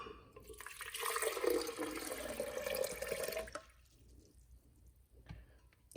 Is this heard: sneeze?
no